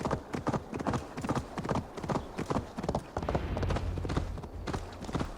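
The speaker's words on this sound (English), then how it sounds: "I'm really glad that you're enjoying our little horse journey here." Rapid, steady clip-clop of horse hooves in the video game Assassin's Creed Valhalla, loud and close, with a low rumble joining in the second half; no talking.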